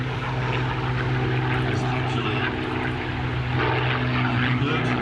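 Supermarine Spitfire Mark IX MH434 at an air festival, its Rolls-Royce piston engine and propeller giving a loud, continuous roaring drone throughout, with talk mixed in.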